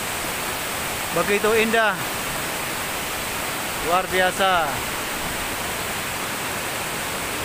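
The Glagah Biru waterfall at Tumpak Sewu roars as a loud, steady broadband rush. A voice speaks briefly twice over the constant cascading water.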